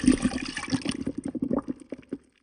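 Plant-based milk poured from a carton into a blender jar holding dates and almond butter, a short close glugging pour that tapers off and stops.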